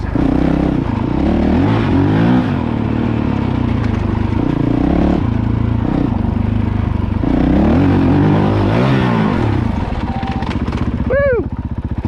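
A Honda CRF450L motorcycle with a Yoshimura RS4 exhaust runs steadily and loudly throughout, its engine drone carrying a rhythmic ticking, with a voice talking over it and a brief rising whistle near the end.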